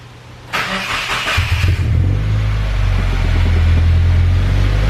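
A 2017 Subaru WRX fitted with a flex fuel kit cranks with a brief whirring starter, then catches and settles into a steady, loud idle rumble close by.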